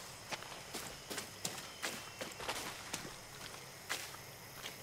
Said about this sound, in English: Heard some extra footsteps